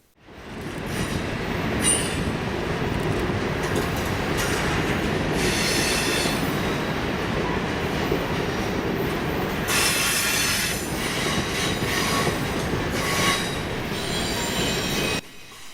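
A Norfolk Southern freight train rolls past in autumn, a loud continuous roar of wheels and cars with high metallic wheel squeals rising and falling throughout, steady and close until it cuts off at the end.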